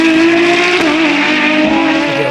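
Ferrari FXX and Formula 1 race cars scream around the Imola circuit, a loud, sustained high-revving engine wail with shifting pitch and a brief tire squeal, no voices.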